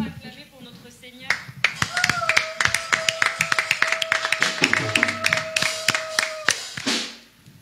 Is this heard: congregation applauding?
yes